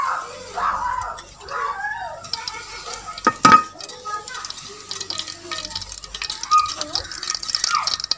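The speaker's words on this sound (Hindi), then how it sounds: "अब इसमें शामिल करेंगे घी।" Ghee goes into a cooking pan for a tinday dish, with clinks and scrapes of a utensil against the metal, stirring sounds and a soft sizzle, while faint voices murmur in the background.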